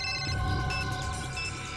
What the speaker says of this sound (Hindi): ये तो वैन के ड्राइवर का फोन है।